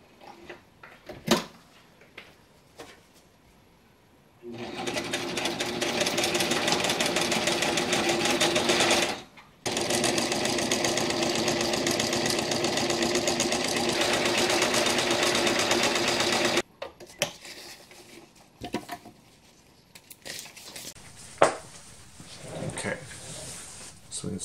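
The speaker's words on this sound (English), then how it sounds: "let me pin this up and let me sew this on there" A sewing machine stitches a buckle onto a roll-top stuff sack, running in two long steady bursts of close, loud whirring separated by a brief pause, with quieter handling clicks and taps before and after.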